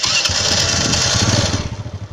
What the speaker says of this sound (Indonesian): Kickstarter juga oke, tapi saya gunakan electric starter karena masih normal.